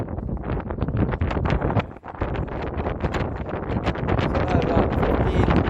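Strong wind buffets a rooftop during roof framing with steel roofing, a steady roaring rush with gusty surges close to the microphone while someone speaks briefly over it.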